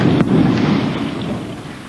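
Explosions during the 1992 bombardment of Sarajevo, heard as a loud, dense rumbling roar that swells at the start and rolls on continuously before slowly easing.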